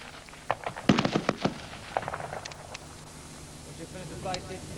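Rifles fire at a shooting competition, giving a quick cluster of sharp reports early on and then scattered fainter pops, heard outdoors under background voices.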